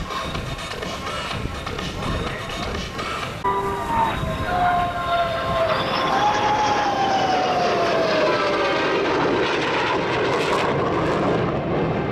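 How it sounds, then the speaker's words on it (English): A 1973-delivered F-111 jet flies by at an air show in Australia, its loud continuous engine roar rising and sweeping in pitch as it passes, steady and close, with faint crowd sounds beneath. "the F-111, the aircraft that took us beyond 2000."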